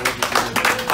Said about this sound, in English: give Comrade Arisco a round of applause